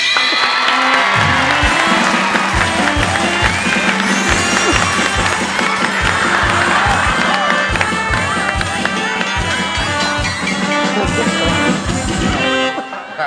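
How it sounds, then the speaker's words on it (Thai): A large crowd at a stage comedy show claps and cheers loudly and continuously for the event's chairman, with shouts and whoops over rhythmic clapping. "ขอเสียงปรบมือดังให้กับท่านประธานนะครับ"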